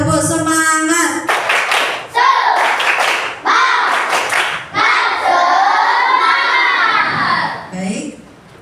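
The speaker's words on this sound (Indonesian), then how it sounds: "Sebelum kita berdoa, kita tepuk semangat dulu ya" Children in a classroom doing a rhythmic spirit clap, bursts of patterned hand claps alternating with shouted chanting, close and loud, opening with an adult voice speaking.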